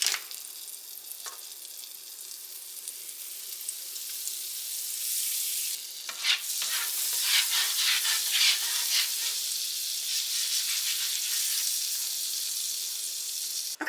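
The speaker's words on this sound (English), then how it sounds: "I'm just going to put some butter on my griddle" Butter sizzling on a hot non-stick griddle with a steady, close hiss that swells louder and busier halfway through, crackling unbroken with no talk.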